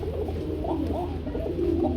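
A pair of Kokka pigeons coo in low, repeated throaty rolls, close by against a constant background hum.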